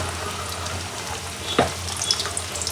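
Chicken frying in a pan at home as chopped onion goes in, a soft steady sizzle with a brief clatter and rustle as the onion is added, then stirring noises.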